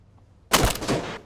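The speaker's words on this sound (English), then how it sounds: "They're shooting at me." Gunfire erupts in the tactical shooter Thunder Tier One, a sudden burst of close, loud rifle shots in quick succession after a quiet moment, sustained for under a second before trailing off.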